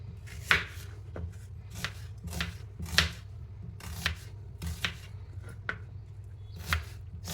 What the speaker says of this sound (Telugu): సన్నగా తరిగేసుకోవాలండి వీలున్నంత సన్నగా బెండకాయలు చూడండి ఇలా వేస్తాను